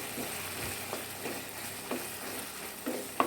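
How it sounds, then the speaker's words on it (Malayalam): Ground coconut paste being stirred into a ridge gourd curry in a pan, with a quiet low sizzle and soft, regular scraping of a spoon every second or so, close and faint. "ആ അരപ്പ് ആഡ് ചെയ്യാം. നന്നായി ഇളക്കി കൊടുക്കാം."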